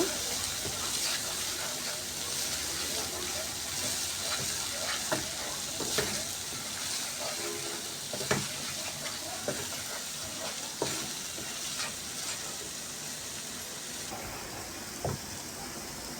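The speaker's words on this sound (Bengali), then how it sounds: "এবার সব কিছু ভালো করে মিশিয়ে আবারও কিছুক্ষণ আমি কষিয়ে নেব" Spices with salt, turmeric, chilli powder and coriander powder are stir-fried in a pan, a steady frying sizzle broken by repeated scraping and stirring clicks, with faint talk at times.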